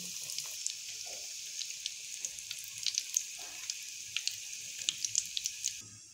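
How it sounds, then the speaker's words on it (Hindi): Donuts frying one side at a time in hot oil, a steady close sizzle with scattered crackles and pops running throughout, fading slightly at the very end. "ये 1 बाय 1 साइड डोनट इसके अंदर रखेंगे फ्राई होने के लिए। तो 1 मिनट के लिए हम लोग इनको जस्ट एक साइड से फ्राई करेंगे।"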